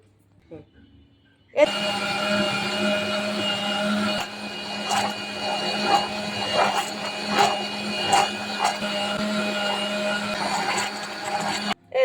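A kitchen blender whirs steadily at full speed, blending a milkshake of vanilla ice cream and milk, with a loud continuous motor drone and small rattles after a quiet start, and a sudden stop at the end.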